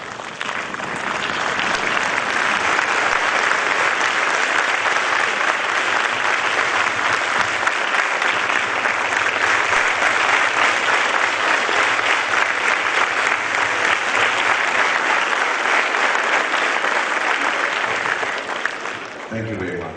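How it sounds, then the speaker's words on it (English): A large conference audience rises from their seats and applauds, making sustained, loud, dense clapping that lasts almost twenty seconds before tapering off at the end. "we show our appreciation by rising where we sit to applaud Prabhu Chawla."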